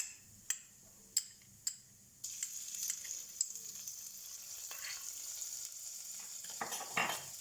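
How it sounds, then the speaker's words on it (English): Chili, ginger and garlic paste frying in a pan with hing (asafoetida) for a cluster beans curry, giving a steady close sizzle after a few sharp utensil taps, with stirring scrapes toward the end. "and then I will add my chili, ginger and garlic paste."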